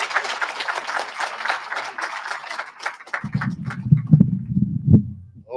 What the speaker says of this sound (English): If you guys would please put your hands together for my friend